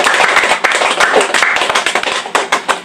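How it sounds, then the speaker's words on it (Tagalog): A church congregation claps for the Lord during a sermon, many hands beating in a quick, lively rhythm, close and loud, with sharp accents standing out over the continuous patter. "Yung palakpak nyo sa Panginoon na buong na eh."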